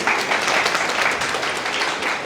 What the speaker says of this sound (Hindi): और ताली तो बजाओ इन्हां ਲਈ